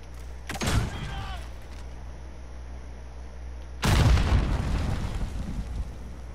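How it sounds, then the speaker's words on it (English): Cruise missile strikes in Call of Duty Modern Warfare, two heavy explosions a few seconds apart, each a sudden loud boom with a rolling rumbling tail over steady game ambience. "Allied cruise missile launched"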